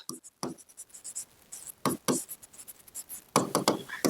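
Marker or chalk scratches and taps across a board during a maths lesson on surface areas and volumes, in short irregular strokes close by, mixed with a teacher's speech.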